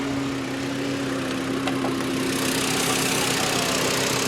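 The 2.5-liter inline five-cylinder engine of a 2010 Volkswagen Jetta SportWagen idles close by with a steady, throbbing mechanical drone and a constant low hum, no voices present.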